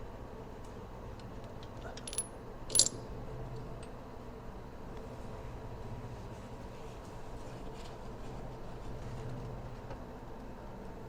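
Steel bolts and nuts clink faintly against an aluminum front axle tube on a 1998 Chevy S10, with a couple of brief metallic taps standing out over a low, steady background hum.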